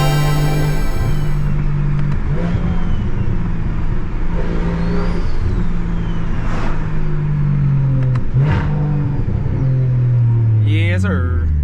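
A single-turbo BMW 335i engine drones loudly from inside the car while driving, its pitch sliding down and back up through several downshifts, with a person talking over it.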